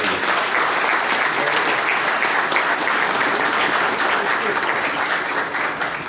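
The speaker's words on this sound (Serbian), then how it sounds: "Molim vas aplauz za predsjednika Radoslava Dačića." Loud, sustained applause from a crowd at a company celebration greeting a president, dense steady clapping that holds evenly from start to finish.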